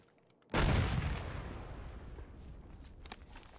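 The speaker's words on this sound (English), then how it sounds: "Tossing a frag." A frag grenade blast in Escape from Tarkov: one sudden, loud, close boom that rolls into a long, slowly fading rumble and debris tail, with no voices.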